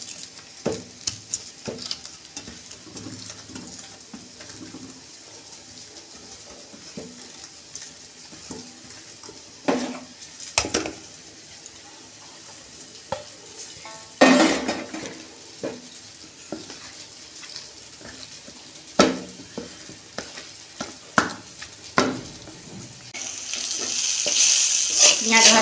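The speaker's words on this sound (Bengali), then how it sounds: "এই যে আমি ভর্তাটা মাখবো।" Pumpkin bhorta mixed with fried onion, salt and roasted cumin powder is mashed in a pan, giving soft irregular squishes and scattered clinks close by, growing louder with a wet hiss toward the end.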